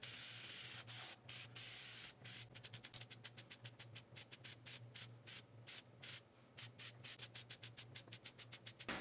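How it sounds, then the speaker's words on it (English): Lacquer sprayed from an aerosol can onto an ebonized ash bowl on a lathe: a steady close hiss broken into many short bursts, quickening into rapid on-off spurts toward the end, over a low constant hum. "I held my lacquer way too close to the piece and I filled every pore up"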